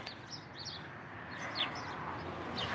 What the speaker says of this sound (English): Because these birds be chirping like crazy.